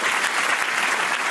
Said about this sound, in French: vous venez d'applaudir une pièce qui n'existe pas